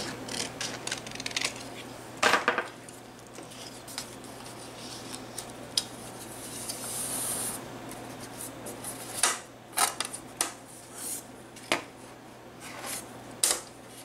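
Scissors snipping craft material for a Dollar Tree Easter and spring bunny-and-flower DIY project, a few scattered quiet cuts and clicks at close range against a low steady hum.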